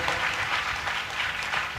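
An audience at a religious ashram gathering claps continuously in a dense, even patter of many hands. The applause is moderately loud and sustained for the whole short stretch, with no clear speech over it.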